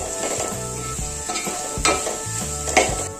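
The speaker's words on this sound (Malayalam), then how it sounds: "ആദ്യം ഒരല്പം മഞ്ഞൾപ്പൊടി നല്ലപോലെ ഇളക്കി ഒന്ന് മിക്സ് ചെയ്ത് അങ്ങോട്ട് കൊടുക്കാം" A spoon stirs turmeric powder into sautéed onions in a pan for beef peralan, scraping in uneven strokes over a steady sizzle of frying, with a few sharper scrapes standing out.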